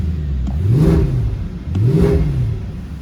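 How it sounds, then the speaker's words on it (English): A car engine on stock exhaust revving twice, each rev rising and falling smoothly, loud and close with no talk. "for a stock exhaust car, it does sound good"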